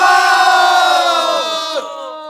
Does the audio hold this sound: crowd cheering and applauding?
yes